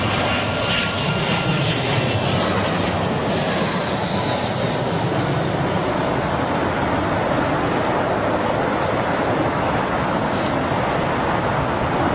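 Airliners arriving at London Heathrow Airport during Storm Brendan, a steady loud roar of jet engines mixed with heavy gusting wind that continues without a break, with no voices.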